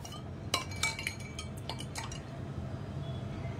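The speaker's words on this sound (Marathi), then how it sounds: "त्यात आपण हे सरबत ओतूया" Tender coconut rose sherbet with chia seeds is poured into a glass, with a few light clinks followed by a soft, quiet trickle of liquid.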